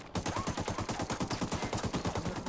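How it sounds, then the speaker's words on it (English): Sustained automatic gunfire in the tactical shooter Ghost Recon Wildlands, a loud rapid stream of evenly spaced shots close up, starting abruptly and continuing without pause. "I got suppressive fire on him."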